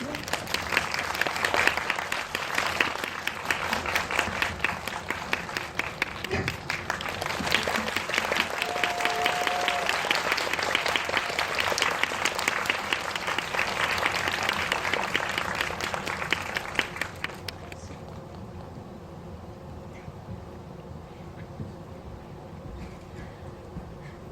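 A large theater audience of about 280 bursts into sustained, loud applause welcoming a film director and young actors at a Korean movie talk event, steady dense clapping that ends abruptly, leaving quiet room tone.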